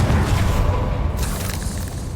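A Confringo fire-explosion spell cast in Hogwarts Legacy inside a cavern: one broad, muffled boom that swells at once and then rolls away into a fading, noisy tail.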